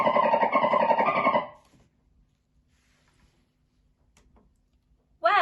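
A dolphin gives a burst of rapid, harmonic chattering whistles and clicks for about a second and a half, loud and alone, then silence.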